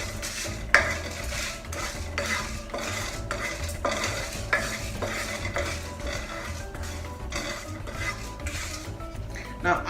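Coconut flour and spices dry-roasting in a pan for a Hyderabadi chicken dish, with steady stirring scrapes and utensil clinks against the pan over a faint sizzle, close and continuous throughout.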